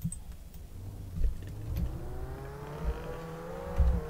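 ATV engine in the Roblox Jailbreak game, a steady whirring motor hum that climbs gradually in pitch as it revs up, heard fairly close with no talking.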